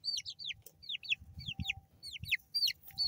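Baby chicks cheeping in a busy cluster, constant high, quick downward-sweeping peeps from several birds close by, with soft shuffling and scratching underneath.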